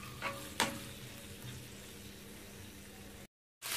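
Chicken gizzards frying in a pan, a steady close sizzle with a couple of sharp scrapes and knocks as the pieces are stirred and turned, then a brief silent gap before the sizzle returns.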